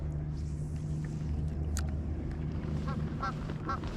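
Canada geese honk in the distance in cold spring conditions, scattered calls over a steady low rumble of outdoor background noise.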